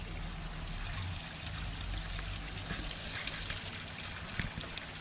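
Water bubbles and trickles steadily in a koi pond with extra aeration, a faint continuous splashing fizz with small drips, heard close in an otherwise quiet outdoor setting.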